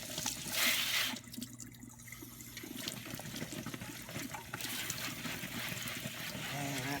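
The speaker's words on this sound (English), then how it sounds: "by just running them under some water in a colander, doing the same thing, shake them around." Prickly pear fruit rinsed under running water in a colander and shaken around, giving a steady, close rush of water that continues throughout with no talking.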